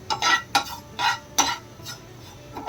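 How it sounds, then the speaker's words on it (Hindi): Ajwain seeds being lightly roasted in a pan, with a spoon stirring and scraping against the metal in several sharp clinking strokes, spaced irregularly, with a faint background of soft rustling. "इसको हल्का सा भून लेंगे ताकि इसका मॉइस्चर निकल जाए"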